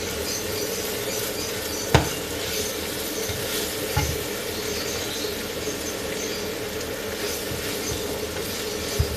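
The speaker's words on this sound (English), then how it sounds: "And now I'll fry this nicely." Steady broadband sizzle of brinjal and ginger frying in a pan, continuous and close, with a couple of sharp clinks and scrapes from stirring.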